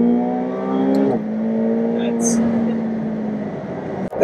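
A 2018 McLaren 720S accelerating on the road: a steady, close engine drone with rising harmonics and a quick gear change early on, heard from inside the cabin.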